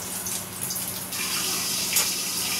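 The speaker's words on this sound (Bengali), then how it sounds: "চলো এই বেগুনগুলোকে একটু ধুয়ে অল্প করে একটুখানি নুন আর হলুদ মাখিয়ে নেব।" Tap water runs steadily while eggplants are washed in a kitchen, a close continuous splashing rush with a brief surge near the end, no speech.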